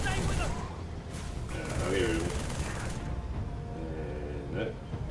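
Gunfire in the video game Halo 3: ODST comes as dense, rattling bursts of shots under a continuous mix of in-game noise, with voices faintly present.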